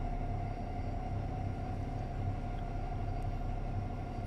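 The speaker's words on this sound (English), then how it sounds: "It's a deep hum like a transformer" A German electric freight locomotive in a train simulator game gives a steady, deep transformer-like hum with a low rumble, constant and unbroken at moderate level.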